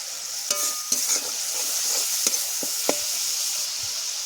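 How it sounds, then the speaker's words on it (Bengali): Tomato paste fries in a pan for a Bengali bata fish curry while a spoon stirs it, sharp repeated scrapes and clacks over a steady sizzle, close and fairly loud, with no speech. "টমেটোর কাঁচা গন্ধটা যাতে চলে যায় সেই জন্য এইভাবে নেড়ে নেব"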